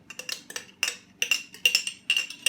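A metal spoon clinks repeatedly against a glass mason jar while chili is stirred, a series of bright, ringing taps in an uneven rhythm, close and fairly loud.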